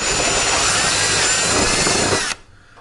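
A power drill whirs loudly and steadily up close for a couple of seconds while drilling a hole during a rear LED light install on a BigDog Alpha or Hustler Raptor mower, then cuts off abruptly into near silence.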